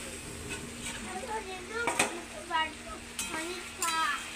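Curry cooks in a pot while being stirred, its soft bubbling sizzle broken by several sharp clanks and scrapes of a utensil against the pot, with a voice talking over it.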